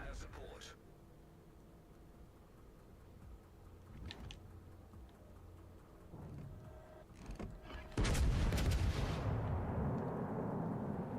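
Fire-support artillery barrage in World of Warships: Legends, scattered distant booms and thuds building to a loud sustained rumble of impacts near the end, with a voice talking over parts.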